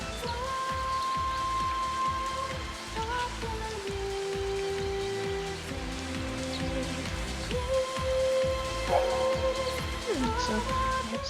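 Steady in-game rain from Final Fantasy XIII, a soft continuous patter on surfaces running under sustained musical tones and occasional game effects.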